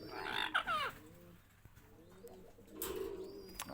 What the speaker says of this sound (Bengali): আর এদিক দিয়ে তো মিঠু ডাকাডাকি করতেছে